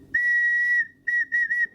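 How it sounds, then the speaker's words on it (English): A handmade ceramic clay water whistle sounds close and clear: one long steady tone, a short pause, then two quick bursts of the same pitch, with no talking. "pretty good, clean whistle sound"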